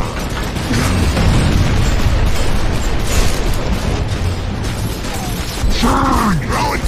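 A frag grenade blast in the video game Gears of War 2, a loud rumbling boom that fills the scene with dense low roar and debris, followed by brief voiced shouts near the end.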